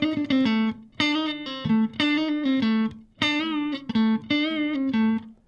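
A blues phrase on guitar played with slides and bends on a flat-twelve articulation, repeated clean sustained notes in rhythmic groups with pitch gliding up and down, close and alone.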